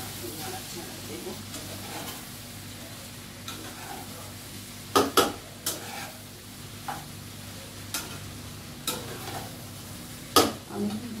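Flattened rice (chira) pulao sizzles quietly in a pan while a spatula scrapes and knocks against the metal in irregular bursts, a few louder clacks standing out over the low frying hiss.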